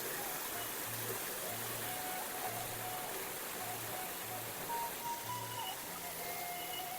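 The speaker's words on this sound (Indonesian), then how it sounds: "Akhirnya kita sudah sampai di aliran Sungai Cisagara atau aliran Sungai Abahku Sagara." Cisagara river stream flowing outdoors near springs in a village setting, a steady broad rushing wash of water heard continuously and moderately near, with faint tones and low hum beneath and no one talking.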